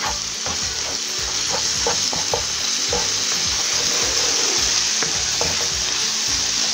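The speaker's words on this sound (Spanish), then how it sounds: "Hemos frito ya bien el ajo, la cebolla y el ají especial." Garlic, onion and aji pepper fry in a pan, giving a close, steady sizzle with intermittent scraping and stirring, and no talking.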